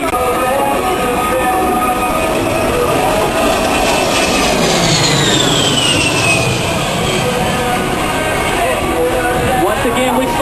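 An A-10 jet flying a jinking, direction-changing maneuver at the 2008 Duluth airshow, a loud continuous engine roar with a whining tone that sweeps down in pitch as it passes, under an announcer's voice.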